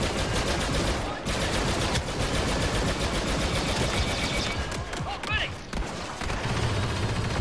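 Gunfire in the Star Wars Battlefront 2 video game, sustained rapid blaster shooting with near-continuous bursts and brief pauses, game effects layered in.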